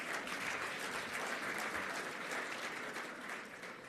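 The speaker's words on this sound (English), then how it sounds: "another round of applause" Audience applause at the Global African Hydrogen Summit 2025, a dense, steady wash of clapping from a large crowd that holds for about four seconds, easing slightly toward the end, with no talk over it.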